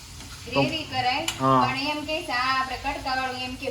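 Onions and tomatoes frying in a pan for Kathiyawadi rotla sabzi, a soft steady sizzle with occasional stirring clinks, heard under someone talking throughout.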